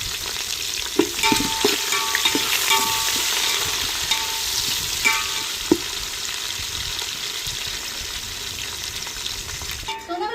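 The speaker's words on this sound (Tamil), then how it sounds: "வெங்காயம் பச்சை மிளகாய் வதங்கி வந்துருச்சு." Onion and green chillies sauté in hot oil in a pan for fish biryani, a loud steady sizzle broken by scraping stirs and a few clinks of the spoon against the vessel, heard up close.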